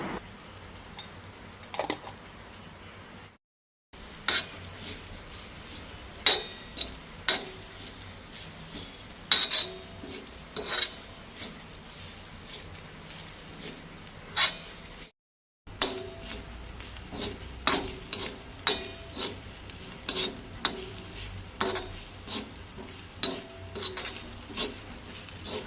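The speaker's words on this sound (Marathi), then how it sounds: "कांदो आनी सोय लायट ब्रावन जायसर भाजून घेवपाक जाय." Onion and grated coconut roasting in a pan for a Goan prawn thali, with a utensil scraping and clinking against the metal in irregular taps over a low background, and no talk.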